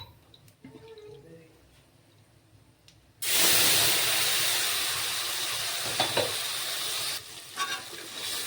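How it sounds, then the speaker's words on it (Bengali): Spice paste hits a hot pan for a vegetarian paneer dish, bursting into a loud broadband sizzle partway through that holds steady, with faint scraping and a speaking voice beforehand. "মশলাগুলোকে একটু ভালো করে ভেজে নিতে হবে"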